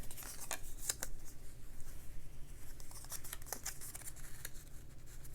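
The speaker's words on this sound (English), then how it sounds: "And now I'll just cut out my felt." Scissors cutting folded felt for a Christmas fabric project, a series of close soft snips and scratchy rustles in an uneven rhythm over a faint low background hum.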